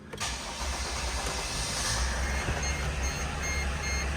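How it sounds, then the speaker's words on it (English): A Sprinter van's engine cranks and catches right at the start, then settles into a steady, fairly loud idle rumble that runs unbroken to the end. "So I will start the car"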